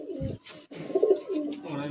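Racing pigeons in a breeder's loft give low, rounded coos in short bursts, close by, with a brief pause before the cooing resumes.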